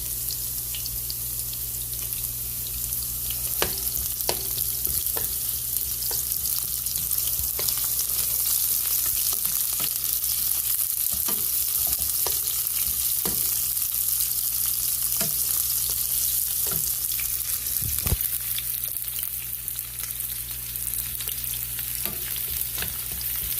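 Garlic, ginger and onions stir-fry in a hot pan, a constant bright sizzle broken by sharp scraping clicks as a utensil stirs them at irregular intervals.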